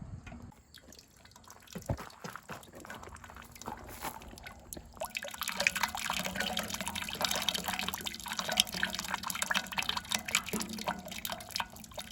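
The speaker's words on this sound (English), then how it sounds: "The juice goes into our container." Grape juice drips and trickles steadily into a container during jelly making, a wet, irregular patter that thickens into a continuous dribble, close by with no talking.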